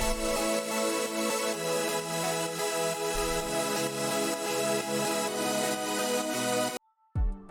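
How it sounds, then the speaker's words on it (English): Dense, bright layered synth chords from a progressive house drop play together in a loud sustained wall, shifting chord by chord, then cut off abruptly near the end. "And altogether, the chords sound like this."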